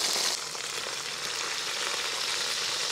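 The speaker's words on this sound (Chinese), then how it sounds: "锅热加油，油热放入鸡架。" Chicken frames fry in hot oil on a griddle, giving a soft, steady hiss that starts slightly louder and settles into an even sizzle.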